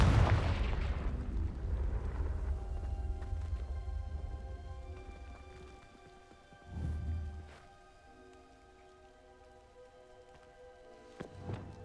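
The Confringo explosion spell goes off in Hogwarts Legacy with a heavy, booming blast that fades into a patter like falling debris. Another thud comes midway, and a quick pair of smaller hits follows near the end.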